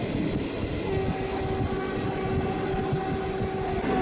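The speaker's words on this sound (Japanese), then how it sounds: "貨物列車と何度もすれ違います。" A freight train rumbles past close by on a conventional line in a river gorge in Fujian, China, a heavy continuous roar with a steady tonal whine and faint clatter running throughout.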